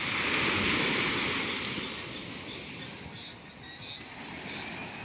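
Sea waves wash onto a beach where people are swimming near a reef, a broad, steady roaring surge that swells loudly at first, eases, then builds again, with some wind buffeting.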